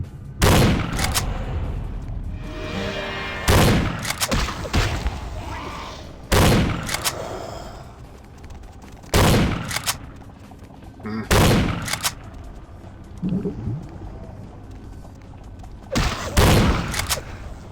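Shotgun blasts from the video game Vampire: The Masquerade Bloodlines fire loudly in about eight separate heavy shots at uneven intervals, with quieter game ambience and brief rustling between them.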